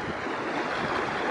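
The high-water Rhine rushes past with strong current, a dense, even roar of flowing water with no pauses.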